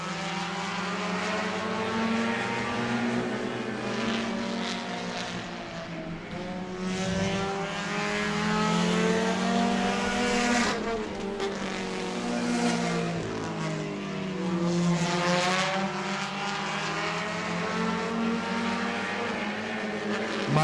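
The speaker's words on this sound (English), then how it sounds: "Car sounds like it's barely running." A short-track race car at Auburndale, running poorly late in the race, gives off a steady, droning engine note that holds for the whole stretch with slight swells in pitch and no voices over it.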